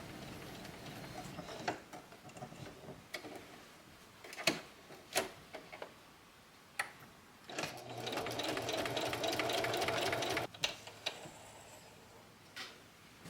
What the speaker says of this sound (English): I sew, I hit the reverse to lock it in, and then I sew right along the edge.